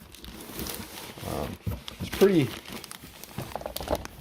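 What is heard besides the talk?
unwrapping backpack from plastic bag packaging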